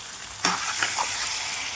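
Chicken pieces tipped into a hot pan of oil with onions, a sudden burst of sizzling and a couple of stirring scrapes, then a steady hiss of frying close up.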